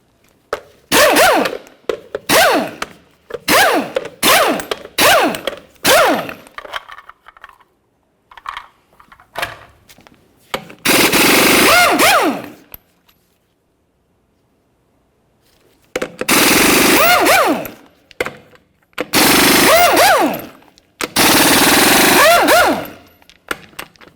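Impact wrench or ratchet spinning off six 22mm lug nuts from the wheel of a 1999-2006 Chevrolet Silverado 1500, in a string of loud rapid rattling bursts, several short clustered runs followed by longer sustained whirs with pauses between.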